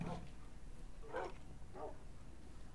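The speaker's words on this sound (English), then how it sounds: "Oh, there's a lot of dogs." Dogs yip and bark in the Minecraft video game, two or three short, faint barks standing out over a low steady background hum.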